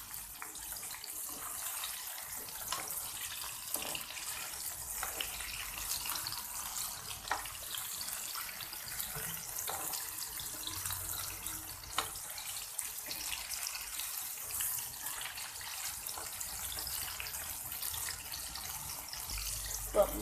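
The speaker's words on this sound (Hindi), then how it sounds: "तो ये देखिए हमारे चिकन पॉपकॉर्न अच्छे से फ्राई हो रहे हैं।" Chicken popcorn fries in hot oil over a medium flame, giving a steady, faint, hissing sizzle with scattered small pops that runs continuously throughout.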